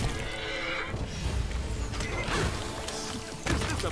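Plagued horses in Pathfinder: Wrath of the Righteous neighing amid game battle noise, a couple of whinnies with clanking mechanisms and impacts, fairly loud and continuous.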